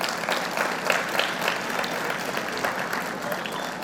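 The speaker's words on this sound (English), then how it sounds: "A big round of applause to them." Steady, dense applause from a school audience at an annual day celebration, continuous and even throughout with no voices on top.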